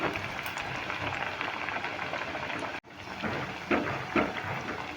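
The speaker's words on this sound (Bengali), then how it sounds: "অল্প অল্প করে প্রথমে ভেজে নিচ্ছি" Snacks of rice flour, grated potato and carrot fry in hot oil, a soft continuous bubbling crackle with a brief dip in the middle and a few louder pops near the end.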